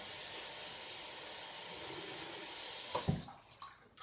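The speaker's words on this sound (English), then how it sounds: "I'm going to fill my spray bottle up with some warm water" Water streams steadily from a bathroom tap into a spray bottle, filling it with warm water, a broad hiss that cuts off near the end, followed by a couple of soft clunks.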